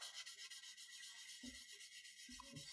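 Gray plastic part of a Gunpla model being sanded by hand, a soft continuous rubbing scrape with two slightly stronger strokes near the end, close and quiet with no talking.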